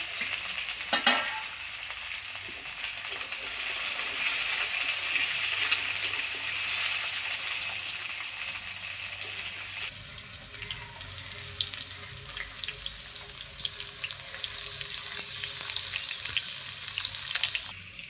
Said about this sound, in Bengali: আমার তেলটা খুব সুন্দর গরম হয়ে গেছে, এবার আমি আলুগুলো ছেড়ে দেবো। সজনার ডাঁটাটাও একসঙ্গে ছেড়ে দেবো, দুটোই একসঙ্গে ভেজে নেবো আমি।